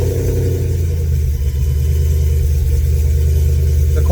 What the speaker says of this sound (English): And now I'm going to start the car and wait until you hear this thing.